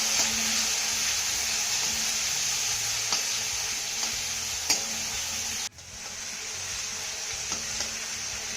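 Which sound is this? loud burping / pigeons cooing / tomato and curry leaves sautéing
tomato and curry leaves sautéing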